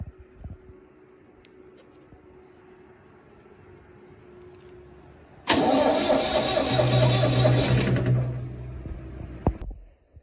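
A Massey Ferguson 35 tractor's starter cranks the engine after a quiet stretch of low idle hum, giving a loud, close, churning grind for about three seconds that trails off, followed by a single clunk.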